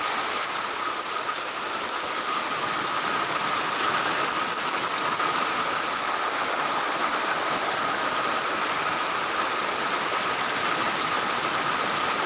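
Steady rain falls outdoors in a continuous, even hiss with no pauses, unbroken by voices and holding the same level throughout.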